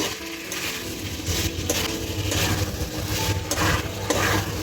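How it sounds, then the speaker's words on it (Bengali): Fried paneer being stirred in a cooking pan, a steady sizzle running under repeated scraping strokes of the spoon, close and fairly loud with no talking. "এই একটু ভালো করে মিশিয়ে নিয়েছি"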